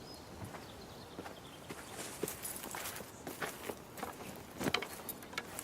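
Horses walking on hard ground, hooves clip-clopping in a loose uneven rhythm amid muffled outdoor noise, moderately close, no voices.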